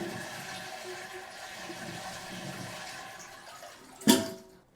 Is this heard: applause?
no